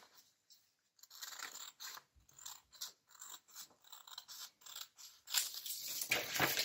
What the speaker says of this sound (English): So I'm just going to cut about 2 millimeters